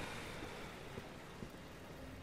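Boat engine and water in Resident Evil 6, a dense, even wash of surf and churning water with a low background rumble, steady and fairly quiet throughout.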